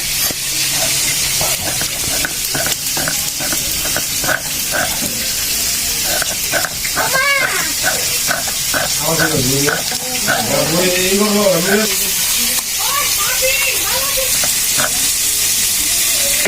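Tilapia and taki fish fry in hot oil in a home kitchen pan, giving a steady crackling sizzle with intermittent scraping stir strokes, while a person talks over the cooking throughout.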